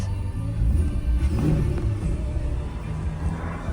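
A supercar engine on a drive around Los Angeles gives a deep, steady rumble heard from close by. It swells slightly around the middle with no clear sharp revs and no talking.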